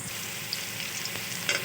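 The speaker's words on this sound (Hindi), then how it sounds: "ये हमारी कढ़ाई है, इसमें तेल गर्म हो चुका है। अब मैं इसमें डालने वाली हूँ एक मीडियम साइज़ का प्याज।" Medium-sized onion, cut normally, drops into hot oil in a kadhai and sizzles steadily up close, with a few light stirring clicks.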